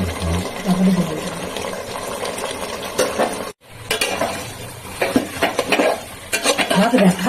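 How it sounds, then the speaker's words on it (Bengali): Country chicken curry is stirred and sautéed in a pan for kosha, with repeated scraping and clinking of a spoon against metal. The strokes come in uneven bursts, near and fairly loud, with occasional brief speech. "আর একটু কষিয়ে নিই, আর একটু কষানো হোক।"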